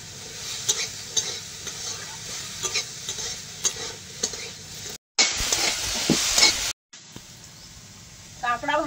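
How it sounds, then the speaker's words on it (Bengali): Crab frying in hot oil, a steady sizzle with occasional stirring scrapes and clinks, briefly cutting out twice before a louder burst of frying; a voice speaks faintly in the background. "কাঁকড়া ভাজা হয়ে গেছে"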